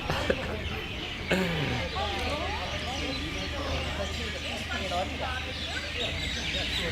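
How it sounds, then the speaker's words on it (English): Birds chirp and call repeatedly against a steady background hiss of night ambience in Jamestown, with a few clucking, fowl-like notes mixed in. "listen to the sound of birds"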